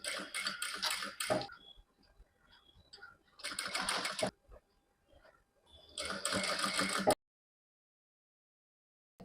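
A sewing machine stitches a frill onto a peplum top in three rapid mechanical bursts, close and clear, with short pauses between runs and silence after the last one.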